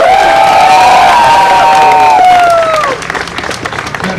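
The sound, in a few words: crowd applause and cheering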